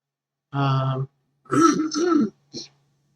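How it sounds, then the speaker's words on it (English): Three bursts of throat clearing from a nearby person, a longer rasping clear followed by a two-part harsh one and a short final hack, each separated by brief silence. "sorry for having to clear my throat all the time"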